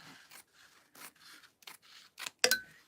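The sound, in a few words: cutting off excess material at the top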